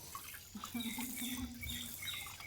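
Water poured steadily from a vessel while cooking in an Indian village, a soft continuous splash and trickle at close range with no talk over it.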